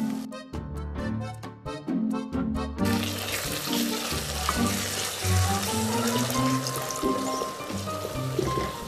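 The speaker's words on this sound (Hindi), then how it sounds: "अब मैं इसमें लहसुन और पानी ऐड करके मिक्स कर लूँगा।" Water pours steadily into a pot of washed masoor lentils and garlic for malka masoor daal, a close, continuous rushing gush that begins a few seconds in, after background music, and runs to the end.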